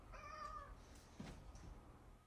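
A cat with a bad temperament meows in a quiet indoor room, a short drawn-out call near the start with a fainter one after it, over low background noise.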